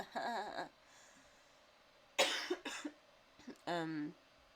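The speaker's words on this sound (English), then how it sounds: "I can't help this cough, people, please forgive me." Several harsh coughs in short bursts, separated by pauses, close and fairly loud, with a brief throat-clearing sound between them.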